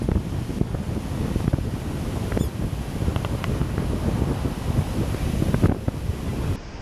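Wind buffets the microphone at a beach on North Padre Island while surf rumbles underneath in a continuous loud roar, with no speech.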